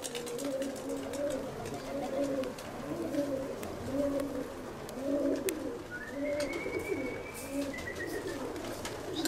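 Pigeons coo repeatedly in low, rhythmic bursts on a summer day in Greece, with a steady background hum, a few faint chirps and brief high whistle-like tones.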